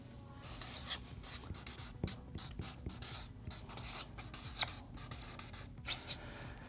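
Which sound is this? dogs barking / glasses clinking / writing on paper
writing on paper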